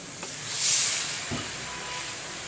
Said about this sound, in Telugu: సో మిగతా పిండిని కూడా ఇలా రోజ్ ఫ్లవర్స్గా అన్నిటిని ఫ్రై చేసుకోవాలి